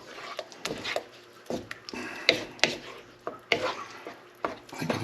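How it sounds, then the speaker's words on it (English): Tomatoes being stirred in a pan for aubergine parmigiana, with repeated scraping strokes of a spoon in an uneven rhythm, close and moderately loud, with no talking. "In goes the tomatoes. Give it a good mix."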